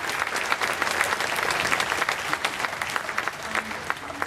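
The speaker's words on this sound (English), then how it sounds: "let's give them a round of applause for all the great individual playing" An audience at an elementary school 4th grade strings concert applauds the young violin players, a sustained patter of many hands clapping with a slightly uneven, crackling texture and no speech.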